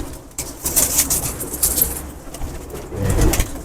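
Old Kasuri pigeons coo amid a busy loft, with low rolling calls under rustling, scratchy movement and occasional wing flutters at close range.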